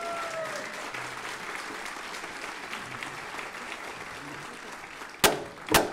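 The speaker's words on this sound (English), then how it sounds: "Let's give them a big round of applause." Applause from an audience at a city's State of the Address event, a steady, moderately loud wash of clapping that carries through, ending with two sharp louder bursts.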